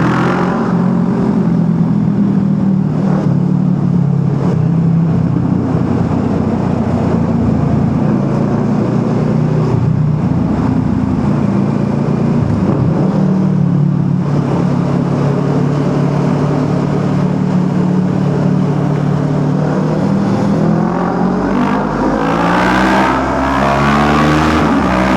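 A motorcycle rides through Kaybiang Tunnel among other traffic, its engine a loud, continuous rumble that echoes in the enclosed space and rises in pitch near the end as the bike accelerates.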